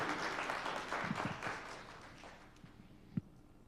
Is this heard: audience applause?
yes